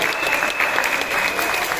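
A training audience at a session in Douala applauds in a dense, continuous burst of clapping, loud and even throughout with no break.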